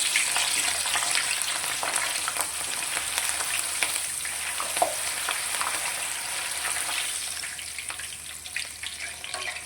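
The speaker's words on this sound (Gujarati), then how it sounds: "તો પહેલાં આ રીતે આપણે તેલમાં મરચાં તળીશું" Green chillies fry in hot oil, giving a continuous loud, close sizzle with scattered crackles and pops that holds steady for nearly ten seconds without any talk.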